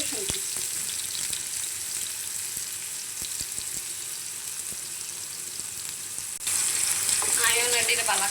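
Chopped onion and garlic frying in a pan, a steady soft sizzle with scattered stirring clicks that grows brighter and louder near the end.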